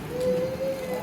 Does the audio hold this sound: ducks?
no